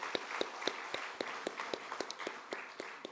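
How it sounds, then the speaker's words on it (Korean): In a church service, the congregation applauds its Sunday school teachers with faint, evenly paced claps that fall in a steady rhythm, soft and distant with little else around them. "우리 교사 분들께 격려의 박수 한번 쳤으면 좋겠습니다"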